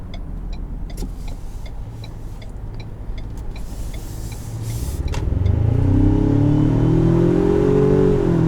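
Engine of a 2019 Ford Ranger Lariat pickup revving as it accelerates, a steady road-noise drone swelling into a louder, rising throaty roar that climbs in pitch over the last few seconds, heard from inside the cab.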